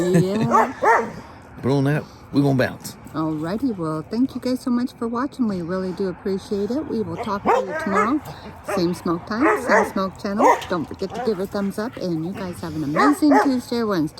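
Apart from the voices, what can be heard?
dogs barking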